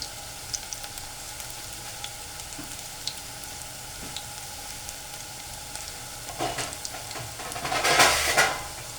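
Gram flour pakoras sizzle steadily in hot oil in a home kitchen, a continuous close frying hiss joined near the end by a louder burst of bubbling and stirring clatter.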